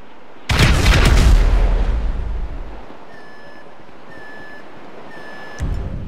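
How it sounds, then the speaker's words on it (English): A loud explosion in the video game GTA V bursts up close with a heavy boom that decays over about two seconds, followed by quiet electronic beeping tones. "An explosion will tend to do that."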